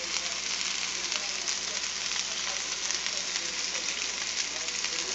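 Steak searing in a hot pan, seasoned with A1 seasoning, gives a steady, close, loud sizzle that holds evenly from start to finish with no break.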